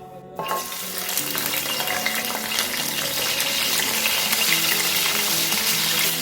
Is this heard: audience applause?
no